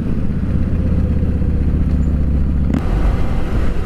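A Harley-Davidson motorcycle is ridden at full throttle, a loud, close, low throbbing engine rumble that holds steady throughout with a brief clunk near the end.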